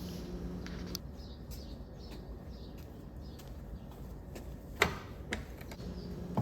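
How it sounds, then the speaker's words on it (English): Faint bird chirps scattered through a quiet outdoor morning, a few brief calls now and then with a couple of sharper clicks near the end. "it's quiet, you just hear the birds"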